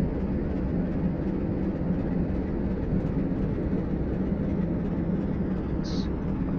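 A Class 47 diesel locomotive hauls a coal train in Train Simulator 2013, its engine a steady, loud low drone with rolling rumble, continuous throughout with no talk.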